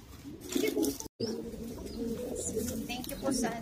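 Pigeons coo in a loft with low, soft, repeated calls, mixed with nearby talking and a brief cut in the sound.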